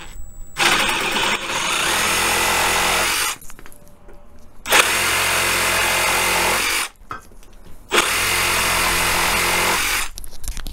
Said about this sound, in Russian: Ставлю ли я на вторую скорость, на быструю. И начинаем потихоньку.